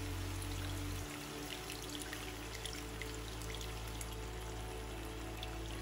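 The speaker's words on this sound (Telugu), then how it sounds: "ఇప్పుడు మనం చింతపండు పులుసు పిండుకోవాలి" Tamarind extract is poured into a prawn curry, giving a soft continuous trickling wash that runs quietly and evenly throughout with no talk.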